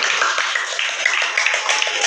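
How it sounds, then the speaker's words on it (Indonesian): Classroom applause for a group of students, a dense burst of many hands clapping together, loud and continuous for a couple of seconds. "Tepuk tangan untuk kelompok ini."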